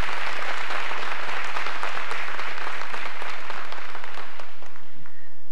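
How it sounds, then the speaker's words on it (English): Applause for honorees at a ceremony: a steady, full round of clapping from a crowd, sustained for several seconds before tapering off near the end, with no talking over it. "another big round of applause for our honorees"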